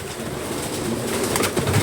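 Racing pigeons coo softly nearby, a low, steady burble with a few slightly louder notes near the end and no talk.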